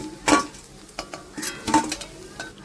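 Fried Malabar spinach fritters lifted out of the pan, with scattered metal scrapes and clinks of utensil on pan over a soft background sizzle.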